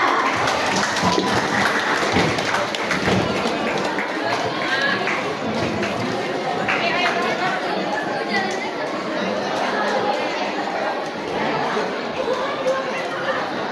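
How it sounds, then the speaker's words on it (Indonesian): A school hall audience applauds student award winners at a school event, a sustained wash of clapping blended with heavy crowd chatter and voices throughout. "Beri tepuk tangan yang meriah"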